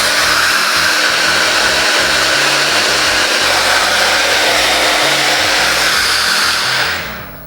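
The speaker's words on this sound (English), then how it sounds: "I'm gonna hit this with the diffuser" A Pattern Beauty blow dryer fitted with a diffuser runs loud and steady, a close, constant whooshing motor-driven airflow that keeps going until it cuts off near the end.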